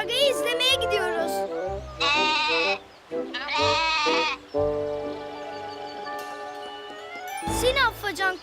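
Goats in a cartoon bleat loudly in several bursts, some long and wavering, with short gaps between calls and a faint jingle under them.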